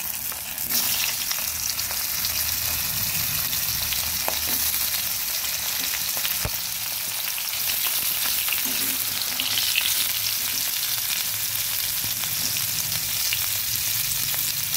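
Steamed potato and cauliflower hitting hot oil in a wok where fish was just fried, giving a loud, continuous crackling sizzle throughout with occasional utensil taps, no voices.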